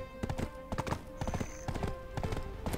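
Horse hooves clip-clop in a brisk, steady rhythm in the video game Black Desert Online, close and prominent.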